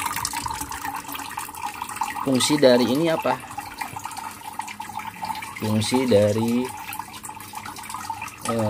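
Water running from a tap into a container used for keeping live silkworms for betta fish food, a steady rushing stream heard close beneath someone talking, with his voice rising over it in bursts.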